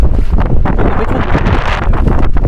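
Strong wind roars and buffets continuously, a loud broadband rush that rumbles low throughout with no voices.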